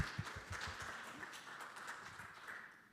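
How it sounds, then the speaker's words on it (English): A conference audience at a green and digital future event applauds for a few seconds, a soft, dense patter of many hands heard from some distance that tapers off. "Please, let's give a round of applause."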